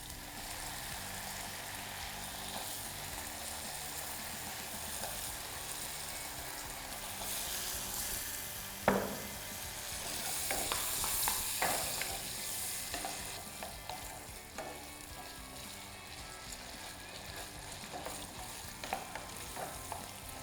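Potatoes and onions cook in butter in a pot, a soft steady sizzle with scattered scrapes and clinks of stirring, quiet and close, busiest in the middle.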